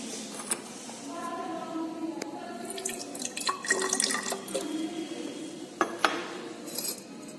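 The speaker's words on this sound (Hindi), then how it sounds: "इसमें 10 ml क्या डालना है, डिस्टिल्ड वाटर।" Distilled water poured into a flask in a polarimeter lab experiment, a thin trickling stream with light glassy clinks and drips, fairly close and soft, heard alone.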